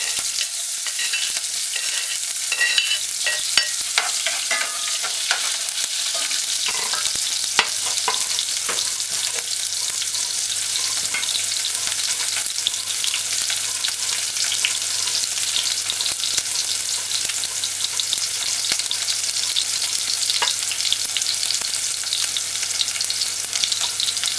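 Chopped onion fries in smoking-hot oil, a loud, steady crackling sizzle with occasional clinks of stirring against the pan, running continuously and close.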